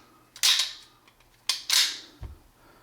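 Trigger reset on a Walther CCP M2 .380 pistol, two sharp metallic clicks about a second apart, close and crisp, followed by a faint soft thump, with no voices.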